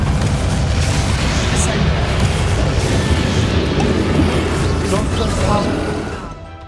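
Spell explosion from the Bombarda charm in the video game Hogwarts Legacy, a dense continuous roar of blasts and crashing debris, loud and sustained throughout before tapering off at the end, with a voice mixed in.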